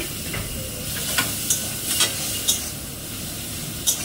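Masala paste sizzling and frying steadily in a pan for a mushroom dish, with a little ground-spice water added. A continuous hiss carries through, broken by a few sharp stirring clinks.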